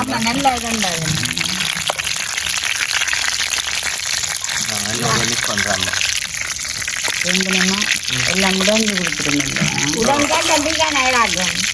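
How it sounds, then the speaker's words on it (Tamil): Oil boils in a cooking pot on a home stove in Jaffna with a steady, close bubbling hiss that runs throughout while a person talks over it. "எண்ணெயுமே வந்து நல்லபடியாக கொதிக்குது"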